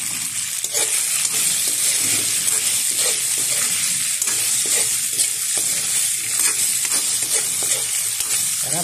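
Tofu sizzling and frying in a hot pan with salt and pepper seasoning, a steady close crackle with occasional stirring scrapes throughout, no talking.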